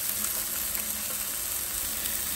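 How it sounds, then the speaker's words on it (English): A constant soft hiss of oil frying in a skillet, steady and fairly quiet, with no voices. "Like I said, when I'm frying, I like to use the skillet."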